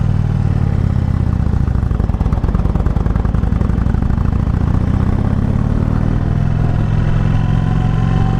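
2018 Indian Chief Vintage motorcycle on a demo ride, its big engine loud and close throughout, a continuous throbbing rumble with clattering mechanical texture and wind, no talk.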